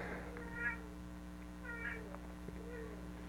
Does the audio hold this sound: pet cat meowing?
yes